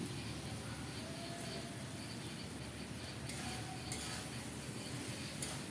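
Washed, cut okra goes into a pan with a dried-fish curry and gets stirred. There is faint, soft sizzling along with light scraping and clinks of a spoon against the pan, and no talking.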